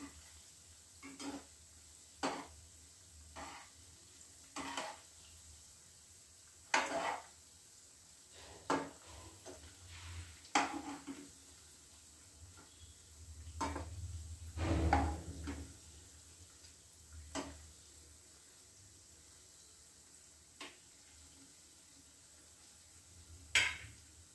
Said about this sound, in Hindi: इसको पलट पलट कर अच्छे से सुनहरा होने तक पका लेंगे।